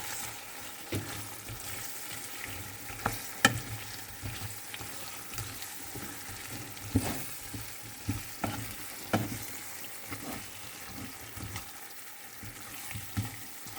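Spiced potato curry fries and sizzles in a pan while being stirred, with scraping strokes and soft clinks from the spoon recurring every second or two over a steady sizzle, no voices.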